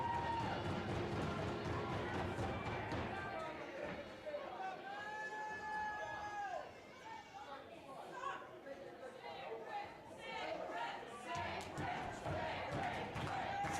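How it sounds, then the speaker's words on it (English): Sold-out crowd cheering at a Crossfire Wrestling heavyweight title event in the Meriden Community Center, a steady roar of chatter and shouts throughout with some whistles and yells rising above it. "sold-out crowd here at the Meriden Community Center. Cheering on Sik Rik Matrix."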